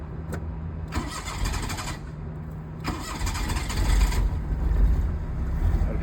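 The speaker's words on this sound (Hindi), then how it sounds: "गाड़ी हमारी स्टार्ट है" A Daihatsu Cuore's petrol engine, fresh from a spark plug repair, is cranked twice with short starter bursts, then catches and settles into a loud, rough, close idle.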